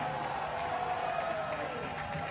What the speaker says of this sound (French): Applaudissez pour moi quand même, je suis roi.